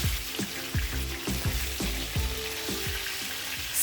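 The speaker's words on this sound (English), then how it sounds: "Fry them slowly on medium heat." Chitol (clown knifefish) pieces frying in a pan over medium heat for a Bengali-style fish curry, a steady close sizzle with a run of soft popping bursts and low clinks, no voices.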